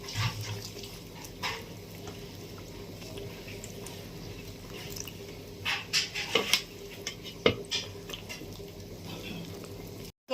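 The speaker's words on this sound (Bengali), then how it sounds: "কটা পিঠে ভিজাবো, এর জন্য দুধ জল দিচ্ছি।" Milk and water are poured over rice cakes being soaked in a pot, making a running liquid sound with scattered clinks and knocks of utensils and cookware throughout, close and moderately loud, without speech.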